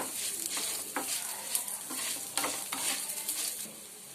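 Ginger frying in hot oil for ginger chutney, a dense close sizzle with intermittent soft stirring scrapes and light spattering, steady throughout with no voices.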